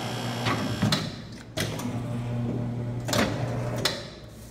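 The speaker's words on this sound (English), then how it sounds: "We're going to go ahead and make a few cuts for you guys so y'all can see how it works" A Triumph 6550-95 paper cutter runs through several cuts, a steady mechanical motor hum broken by sharp clunks and thumps as the clamp and blade come down, close and without speech.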